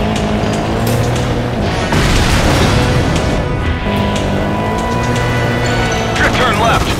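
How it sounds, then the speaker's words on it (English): Loud rumbling explosions and crashing booms in the driving game Stuntman: Ignition, with car engine noise and a voice calling stunt directions over the dense, continuous action. "Pass close to the explosion."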